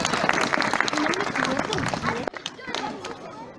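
Audience applause and cheering at a festive Christmas-themed show with Mother Christmas, loud and dense with claps and crowd voices, then thinning out partway through.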